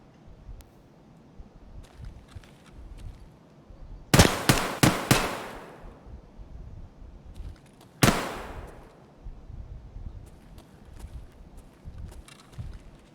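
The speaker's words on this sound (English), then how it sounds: "And they are shooting at me." Escape from Tarkov gunfire: a sharp burst of four or five quick shots, then a single loud crack a few seconds later, against quiet background noise.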